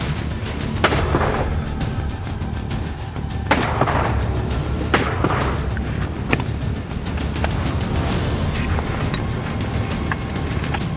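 Gunshots ring out during a hunt on a river, with several sharp reports spaced a few seconds apart over a constant outdoor rumble.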